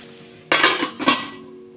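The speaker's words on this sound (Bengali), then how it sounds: "এর উপর দিয়ে আমি একটা ঢাকনা চাপা দিয়ে দেবো, যাতে জলটা সব শুকিয়ে যায়।" A lid set down onto a cooking pot of pumpkin simmering on low flame, giving two close metallic clanks about half a second apart, then a quiet room.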